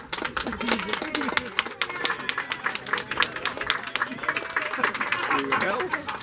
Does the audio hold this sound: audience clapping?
yes